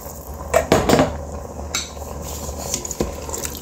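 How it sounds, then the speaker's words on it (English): A spoon scrapes and clinks against a pot of chili with water as it is stirred, a few sharp metallic knocks early on followed by lighter scraping and a later tap, close by with no talk. "Just stir, stir, stir."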